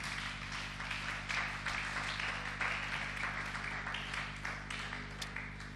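Congregation applauding in a church during a prayer and fasting service, a steady wash of many hands clapping that carries on evenly and fairly faintly throughout, with a low hum beneath.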